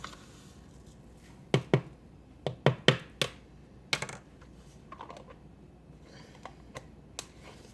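A spoon scoops chia seeds from a plastic Tupperware canister, producing a scatter of sharp clicks and taps against the container, some in quick pairs, close up and quiet, then fading to lighter ticks.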